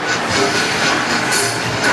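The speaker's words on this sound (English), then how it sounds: "we're going on a train ride" A Cat in the Hat themed ride train at Islands of Adventure rolls along its track with a steady, close rumble and clatter. The noise is continuous and fills the clip, with no talk over it.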